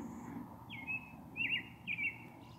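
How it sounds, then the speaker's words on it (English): Birds chirp outdoors on a moonlit night, three or four short high warbling calls spaced a second or so apart, moderately close and clear over a low steady background hum. "the birds are also chirping outside."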